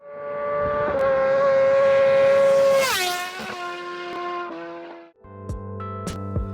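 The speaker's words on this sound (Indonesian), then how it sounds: "Misalnya ZX-10R memiliki suara yang halus" A Kawasaki ZX-10R motorcycle with an inline engine revs loud and high, its smooth whine dropping sharply in pitch midway as it sweeps past, then settling into lower, steadier engine tones with a few brief blips.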